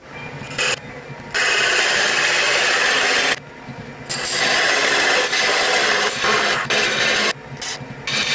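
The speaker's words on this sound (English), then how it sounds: "we'll cut that tenon." Wood lathe cutting a tenon on a small gift box blank, giving a steady loud scraping rasp that runs for long stretches, broken by a few brief pauses.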